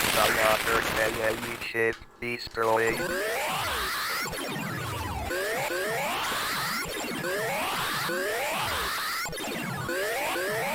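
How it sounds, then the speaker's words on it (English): Rapid electronic shots fire from a classic arcade space shooter, a Galaxian-style game, with dense repeating zaps and descending sweeps looping steadily throughout, briefly interrupted near the start. "I'm firing too fast."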